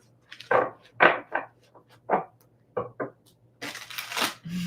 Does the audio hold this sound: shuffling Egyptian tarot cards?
yes